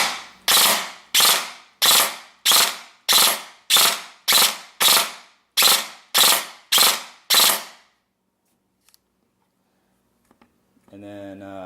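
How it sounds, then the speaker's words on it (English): A gun with a faulty fire selector fires a rapid, evenly spaced string of about a dozen sharp, close, loud shots, followed by silence and a brief stretch of talk. "I'm going to go ahead and show the burst fire on semi when it's not supposed to be"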